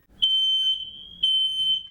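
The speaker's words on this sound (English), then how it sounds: "set off the smoke detectors, and see how long it takes for them to wake up" A household smoke detector sounds its alarm, two long piercing high beeps each with a brief pulse, loud and close in an otherwise quiet room.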